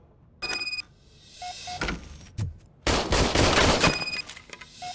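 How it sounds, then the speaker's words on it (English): A service pistol is test-fired in RoboCop: Rogue City, with a few sharp separate shots followed by a heavier sustained burst of fire, plus small electronic beeps and tones from the game in between. "I was issued this old gun and serviced it according to the manual. I will try it out."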